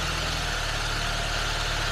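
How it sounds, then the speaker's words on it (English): A car engine idles steadily with a constant low rumble and hum throughout, no voices. "Well, the engine is already running."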